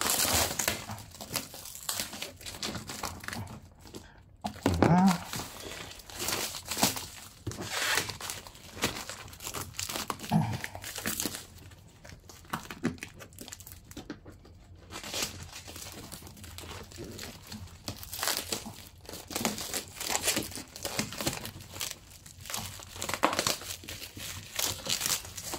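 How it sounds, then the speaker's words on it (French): Plastic film is peeled and crinkled off the packaging of a piccolo trumpet, a continuous close-up crackling and tearing with irregular louder crunches and rustles throughout. "On va enlever les films."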